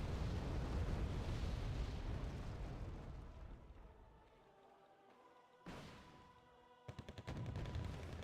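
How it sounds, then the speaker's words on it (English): Tank fire and explosions in the war strategy game Wargame Red Dragon: a rolling low rumble of distant blasts fades away, then sharp, faint bursts of gunfire crack out near the end. "A little bit too much tank fire for them to handle."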